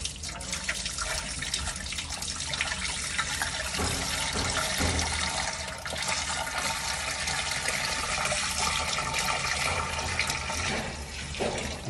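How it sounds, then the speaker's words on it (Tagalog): Water pours steadily into a crawfish tank set up with PVC pipes, a continuous close gushing and splashing that runs the whole time with no voices. "Okay guys, lagyan natin ng tubig."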